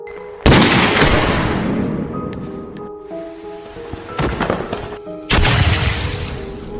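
Pistol gunshots in a mafia film, three loud sharp reports spaced a couple of seconds apart, each with a booming tail, over faint background sound and no speech.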